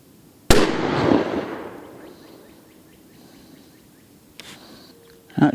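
A 7mm PRC rifle fires during ammo testing outdoors, one sharp loud shot with a long rolling echo fading over a couple of seconds, followed later by a faint distant pop and a closing click.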